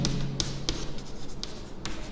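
Pen or marker writing on a surface during a Class 10 maths lesson on polynomials: a steady run of short scratching strokes with brief taps, close and fairly quiet, no talk.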